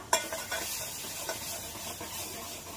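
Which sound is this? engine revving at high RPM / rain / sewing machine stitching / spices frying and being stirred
spices frying and being stirred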